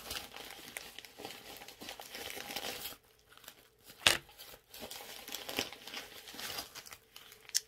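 Close, continuous crinkling and rustling of plastic packaging being pulled apart by hand, with a brief pause and a sharper tearing rip midway.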